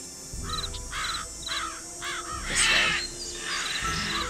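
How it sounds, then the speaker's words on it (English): Crows caw repeatedly in a video game forest, a series of hoarse calls spaced about half a second apart over a dense, steady bed of ambient birdsong and rustling, with one louder, brighter burst of chirping midway. "So many bird sounds."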